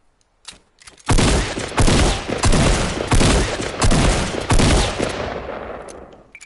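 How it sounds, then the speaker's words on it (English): Rapid bursts of in-game gunfire in Fortnite Battle Royale, aimed at a tree, come as several loud, closely spaced volleys with brief gaps between them, dense and punchy, ending in a fading tail. "I'm just trying to shoot out this tree without wasting my ammo"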